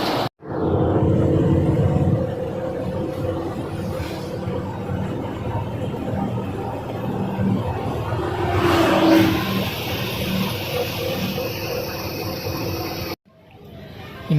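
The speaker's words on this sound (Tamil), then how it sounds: "இந்த மாதிரி தான் வண்டி சவுண்டு" A vehicle engine rumbles and revs on a forest road, loud and close, with a brief rise in intensity near the middle before it cuts off abruptly.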